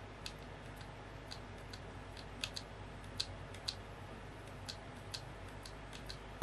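Fantech MaxPower MK853 mechanical keyboard with red switches, typed on with the keycaps removed, giving faint, sparse clicks and ticks at an irregular pace over a quiet background.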